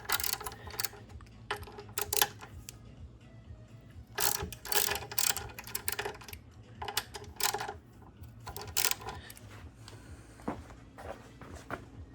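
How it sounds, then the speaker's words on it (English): A hand ratchet clicks in repeated bursts while loosening the fork pinch bolts on a Kawasaki ZX6R motorcycle, close and crisp, with short pauses between the runs of rapid clicking. "Next, we just go around and crack these little pinch bolts."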